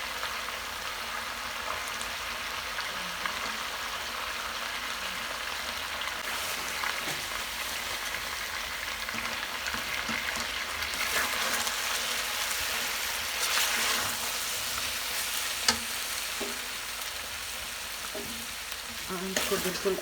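Onion, tomato, cucumber and green chillies for a chicken tikka karahi cook on low heat, giving a steady soft sizzle and frying crackle with occasional stirring clinks throughout.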